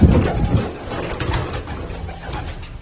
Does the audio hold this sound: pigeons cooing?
yes